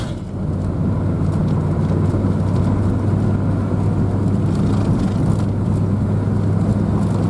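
A truck driven along an icy road, its engine a steady low rumble with broadband road and tire noise that holds constant throughout, close by, with a touch of wind buffeting and no voices.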